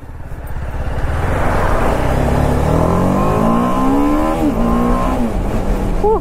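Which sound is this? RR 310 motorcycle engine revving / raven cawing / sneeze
RR 310 motorcycle engine revving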